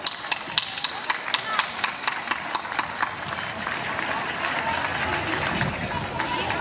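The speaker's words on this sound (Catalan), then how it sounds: "Aquest aplaudiment és per a tots i totes vosaltres." Audience at a closing event for a women's week in Alginet applauding, a steady crackling wash of clapping with regular sharper rhythmic claps standing out, moderately loud and continuous throughout.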